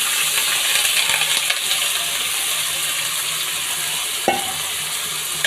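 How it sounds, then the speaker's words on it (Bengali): Red lentils frying in oil in a kadai with turmeric and salt, a continuous close sizzle with stirring scrapes and a sharp metallic clink near the end. "তো ডালটা একটু ভেজে নিলাম তেল দিয়ে, তেল লবণ হলুদ দিয়ে"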